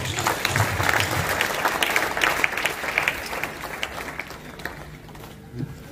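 Church congregation applauding at a special couples' service, sustained clapping from a crowd for several seconds that gradually thins and fades, with a few faint voices underneath.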